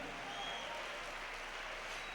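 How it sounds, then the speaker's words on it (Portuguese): Congregation applause during a Spanish-Portuguese church celebration service, a steady, even wash of clapping that holds through the whole moment at a fairly low, distant level, with no voices standing out. "Les aplauso al Señor."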